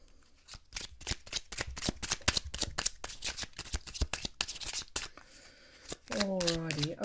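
Gilded Tarot and Prisma Tarot cards being shuffled, with rapid riffling, flicking bursts close up and a person speaking quietly during the shuffle.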